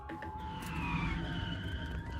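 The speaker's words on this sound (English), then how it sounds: "Those are PSA sirens." Police sirens wail outside a warehouse in the video game Girls' Frontline 2, a steady gliding tone under a dense backdrop of game music and ambience, moderately loud throughout.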